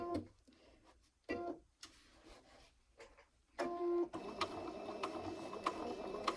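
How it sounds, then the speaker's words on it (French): A dual-feed sewing machine stitching fabric for washable wipes, slipping at a corner: an intermittent mechanical whir in short bursts that becomes a steadier running hum toward the end, with no talk over it. "La machine derrière, même avec le double entraînement, elle n'arrive pas à attraper le tissu et à le faire glisser."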